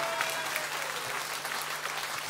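Concert audience at a 2006 tour show applauds loudly and steadily, a dense unbroken wash of clapping filling the room for a couple of seconds with no voices on top.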